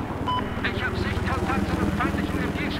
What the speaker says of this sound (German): Helikopter. Hinter uns.